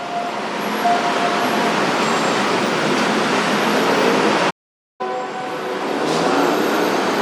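A train passing the railway level crossing at Asok-Din Daeng Road in Bangkok gives a loud, steady rumble with a faint horn-like tone and nearby road traffic. It cuts out abruptly for about half a second, then continues.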